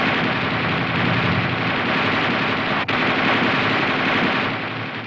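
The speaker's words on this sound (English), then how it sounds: "The gunner continues to fire in 20 to 25 round bursts" Coaxial machine gun on an M551 Sheridan light tank firing sustained bursts of 20 to 25 rounds, a dense, loud continuous rattle of gunfire with one brief break near the middle.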